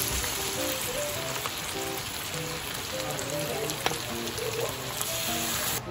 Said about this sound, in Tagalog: lagay na natin ang sauce